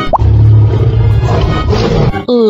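A lion roars loudly in a children's animal-learning animation, a continuous, rough roar filling about two seconds before a brief bright tone cuts in at the end.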